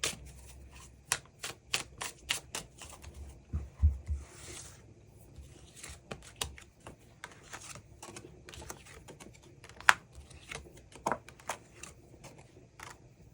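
Tarot cards are riffled and shuffled by hand in a quick, crisp run of soft papery flutters and taps, close and quiet, with no voice over them.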